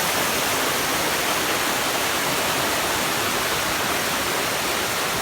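River water rushes and flows steadily near Tee Lor Su waterfall in Thailand, a loud, dense, unbroken roar with no voices.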